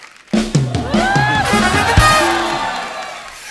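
A television studio audience at a comedy talk show cheering and applauding as celebrity guests arrive, a loud continuous roar of crowd noise mixed with music and voices.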